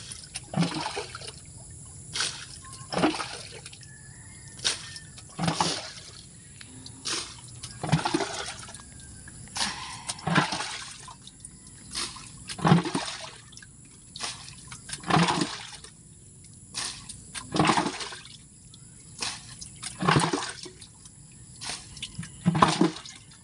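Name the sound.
running water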